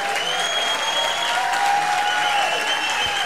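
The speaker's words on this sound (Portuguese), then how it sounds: "Queria mais uma salva de palmas para o Edmilson" An audience claps for Edmilson at the official opening of the 28th regional forum for strengthening a partnership network, steady, dense applause filling the hall, with a faint sustained tone ringing through it.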